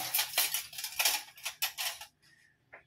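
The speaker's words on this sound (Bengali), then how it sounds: "এখন পনিরটা কাটা হবে" A knife cutting paneer into small pieces, heard as a quick series of sharp taps and clicks on a board, close by, stopping near the end, no voices.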